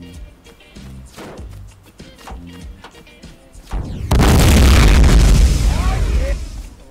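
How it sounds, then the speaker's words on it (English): A gas station explodes in DayZ with a sudden loud, deep roaring blast that rumbles on for a few seconds, after a stretch of people talking and faint game noise. "We could shoot the gas station, make it explode."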